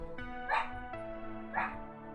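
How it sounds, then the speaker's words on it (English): A dog in the background gives two short yelping barks with a whimpery edge, fairly faint under a steady electronic game tone. "Don't mind the dog."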